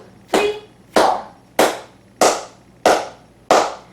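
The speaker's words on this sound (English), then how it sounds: "And let's start clapping." Six sharp flamenco palmas hand claps in an even, steady rhythm, close and crisp, each clap decaying quickly into silence.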